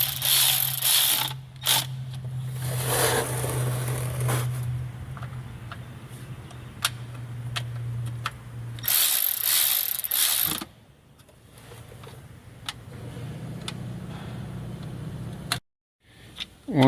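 Ratchet wrench snugging the transmission pan bolts on a Ford Super Duty with a 5R110W transmission: loud bursts of rapid clicking, broken by pauses and quieter stretches, close to the listener.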